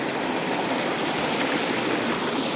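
A waterfall and stream rush in a steady, close, full roar of flowing water that stays unbroken throughout, with no speech.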